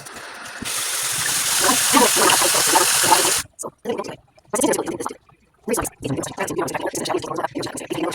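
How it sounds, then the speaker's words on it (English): Warm water is added during a skincare routine, a steady pouring, splashing stream for a few seconds, then stopping, followed by short bursts of someone speaking. "Okay, so I'm gonna add a little bit of warm water."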